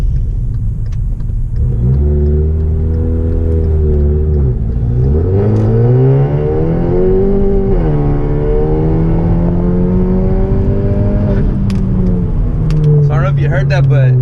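A car with a catless downpipe exhaust revving loudly and close, its engine note climbing and falling through several rev sweeps, rough and droning throughout.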